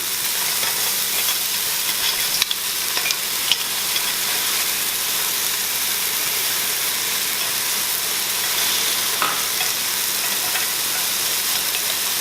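A pan of strawberry rhubarb caramelized onion jam sweetened with honey cooks over raised heat, giving a steady loud hiss and bubbling with occasional stirring scrapes and clicks; no voices.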